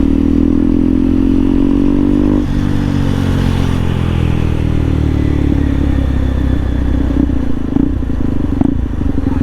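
A third-generation KTM Duke 250 with a modified Akrapovic exhaust revs loudly up close. The deep engine note sweeps up and drops back, then settles into a rough, crackling idle with occasional sharp blips.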